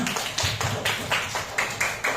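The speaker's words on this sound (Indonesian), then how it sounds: "Tepuk tangan untuk kita semua." A school class claps together in a classroom, giving a run of about eight loud, evenly spaced claps in a steady rhythm.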